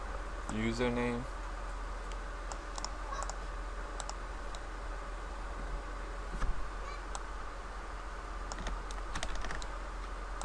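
Database details are typed on a computer keyboard, a quiet run of uneven key clicks that is close and soft, with a brief tonal sound early on and no talk over it.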